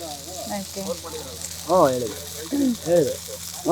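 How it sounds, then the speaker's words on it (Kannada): Fish tawa-fried on a griddle gives off a steady, hissing sizzle throughout, while people talk loudly close by over the frying. "ಫ್ರೈ ಆಗ್ತಾ ಇದೆ ಫಿಶ್. ತವಾ ಫ್ರೈ ಮಾಡ್ತಾ ಇದ್ದಾರೆ."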